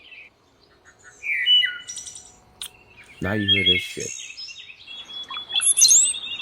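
Wild birds chirp and tweet in repeated bursts close to a house ringed with sunflowers, with someone talking over part of the calls.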